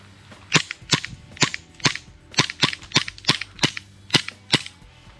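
A Novritsch SSP18 airsoft pistol, a Glock replica, fires about a dozen sharp, close snapping shots in an uneven rapid series, each a crisp pop with a short tail, and no one speaks.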